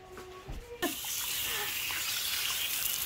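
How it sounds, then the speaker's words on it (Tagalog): Water runs steadily from a salon tap as hair is washed, a continuous close gush that starts abruptly after a brief quiet moment. "Yan, hunugasan na rin yung buhok ko."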